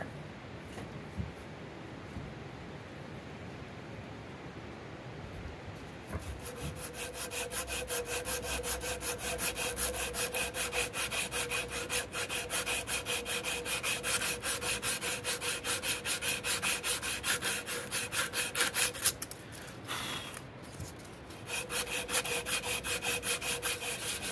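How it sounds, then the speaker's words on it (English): Sandpaper rubbing steadily over the antler handle of a Schrade Walden 148 knife, a close, even rasping stroke that starts after a quiet moment and continues with no one speaking. "think from here on out we're gonna use just some sandpaper"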